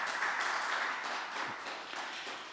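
An audience claps at a university scholarship ceremony during a prayer breakfast, a dense, sustained wash of applause that holds at an even level throughout without fading.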